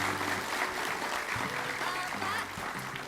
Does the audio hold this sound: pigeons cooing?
no